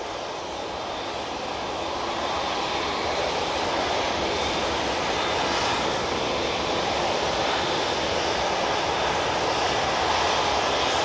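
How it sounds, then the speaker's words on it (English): A Qatar Airways Boeing Dreamliner approaches to land on runway 23 left at Manchester Airport, a broad steady engine roar that stays loud and continuous throughout, with no talk. "I can hear the Qatar Dreamliner now coming on to 2-3 left."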